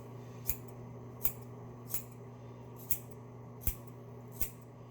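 Six sharp, evenly spaced snips of scissors cutting hair held close behind the ear, each a crisp click over a steady low hum in a quiet room.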